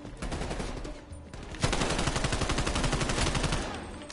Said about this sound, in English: I just see where their bullets coming from. I start shooting.